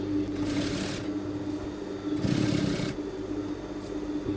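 A sewing machine stitches children's lazy pants in steady bursts, two louder runs of rapid mechanical whirring with brief pauses between them, close and clear with no talking.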